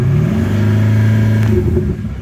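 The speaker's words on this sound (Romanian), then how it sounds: "Ca să întinzi pedala de accelerație să se audă turația. Întinde-o pe la vreo 3000" Mercedes W222 engine with a Thor exhaust, revved to about 3000 rpm and held for roughly two seconds, a loud close droning rev with strong low harmonics that drops away at the end.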